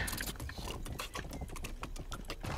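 Horse hooves clip-clopping in the video game Rustler: an irregular run of close, quick hoof clops with faint clicky mechanical noise underneath.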